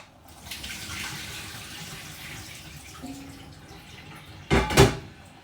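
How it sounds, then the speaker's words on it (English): Warm water poured off scalded ackee in a kitchen: a soft, continuous running trickle, then a brief louder splash and clatter near the end, with no voices. "So let's strain off the warm water I put on it before."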